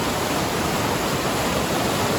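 River water rushing hard around a wading crossing, a dense, loud, continuous roar of turbulent flow with no breaks or voices.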